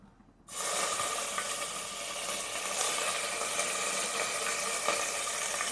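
Cinnamon and cloves dropped into hot oil in a pressure cooker for a chicken biryani, bursting into a loud, steady sizzle right after a brief quiet start, a close, dense hiss that holds on evenly.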